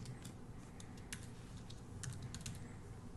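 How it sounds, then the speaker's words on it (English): Quick clicks of a computer mouse, including a rapid triple click, mixed with keyboard-like taps, faint and close against a low steady background hum. "So we're going to go ahead and triple click on this text."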